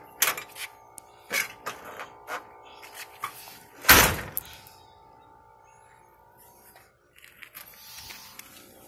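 A car door on a 1976 Chevrolet Vega that does not close properly is handled and shut. A series of knocks and clunks builds to one loud slam near the middle, followed by quieter rattles.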